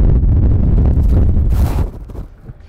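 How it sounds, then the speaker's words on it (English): Heavy wind on top of Hoover Dam, Nevada buffets a microphone with loud low rumbling gusts that ease off near the end. "It's very windy today,"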